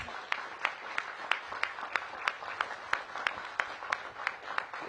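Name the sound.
audience applause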